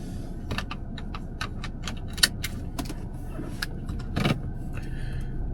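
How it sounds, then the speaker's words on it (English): Someone getting into a car to drive off: a string of sharp clicks and light knocks, a brief rattle like keys or a seat belt, and a door-like thump near the end over a low background hum, with no talk. "So let's jump in the car."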